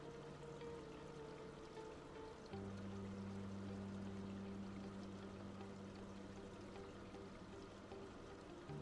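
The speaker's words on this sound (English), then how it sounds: "I hear a babbling brook." Liquid poured steadily into a cup while making tea, a continuous trickling, brook-like stream with a low tonal hum beneath that grows fuller partway through, heard close and alone without talk.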